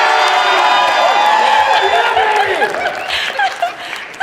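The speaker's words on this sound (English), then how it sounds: "I think it was the entire Korkowski clan cheering" A big family clan cheers and claps together at a Christmas gathering, a loud burst of mixed voices and applause that gradually thins out and fades.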